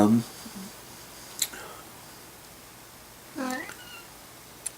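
A couple of short cat meows, spaced apart over a quiet background, with a faint click or two in between.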